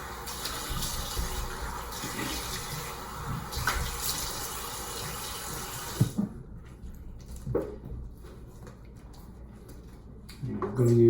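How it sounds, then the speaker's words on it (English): Water runs steadily from a tap while someone rinses off after a shave, a close hissing flow that cuts off midway, leaving faint handling clatter and small splashes. "I'm gonna wash off real quick."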